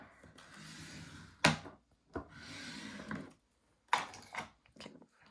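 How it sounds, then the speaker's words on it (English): Fabric is burnished onto an embossing folder by hand, making close, dry rubbing and scraping strokes in irregular bursts with brief sharp knocks and short quiet gaps between them. "I'm going to just burnish it down really well first."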